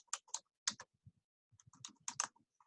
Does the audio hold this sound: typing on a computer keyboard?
yes